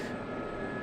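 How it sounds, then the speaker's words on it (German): An SA342 Gazelle helicopter in the DCS flight simulator runs with engine and rotor synchronized, giving a steady, close, even drone with a sustained whine and no talk. "Triebwerk und Rotor synchronisiert und der Hubschrauber ist an."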